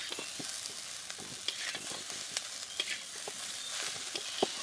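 Egg chowmein is stir-fried in a pan, a continuous soft sizzle broken by repeated scraping and tossing strokes of a spatula, close and fairly quiet, with no voices.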